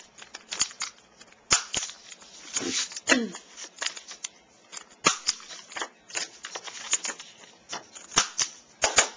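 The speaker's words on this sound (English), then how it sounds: "I decided I wanted to round my corners." A tool rounds the corners of a paper pop-up birthday card, giving crisp, close snips and clicks in quick irregular bursts. A person talks softly in between.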